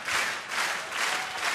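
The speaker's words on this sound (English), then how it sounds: "Let's get an encouraging clap going, ladies and gentlemen." Audience applause at the Royal Variety Performance, a broad steady wash of clapping in gentle waves throughout, with no talk over it.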